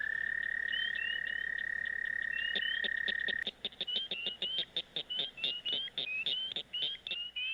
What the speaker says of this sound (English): how many different species of frogs and or toads do you hear calling?